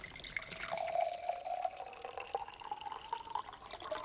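Silk milk poured from a carton into a glass, a steady close liquid stream with a rising filling tone that lasts the whole stretch, heard alone.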